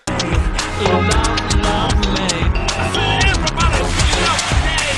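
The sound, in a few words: pop song remix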